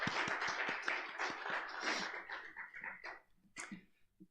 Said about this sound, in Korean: 마지막으로 다시 한번 축복의 박수와 인사를 드리겠습니다.